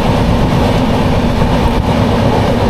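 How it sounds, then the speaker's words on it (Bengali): The 22861 Kantabanji Ispat Express running at high speed, a loud continuous rumble and roar of the moving train heard from on board, steady throughout with no voices. "ট্রেন তার স্পিড কনস্ট্যান্টলি 100-র উপরে রেখেছে আর 122 পর্যন্ত এখনো হাইয়েস্ট গেছে"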